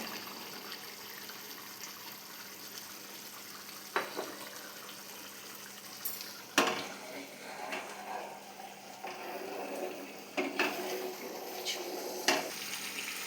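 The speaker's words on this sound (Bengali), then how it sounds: "ওটা আমরা একদম মিডিয়াম টু লো আছে ফ্রাই করবো, নাহলে পনিরটা পুড়ে যাবে।" Paneer frying in oil in a pan over medium-low heat, a soft continuous sizzle with occasional stirring scrapes and clinks standing out, no talking.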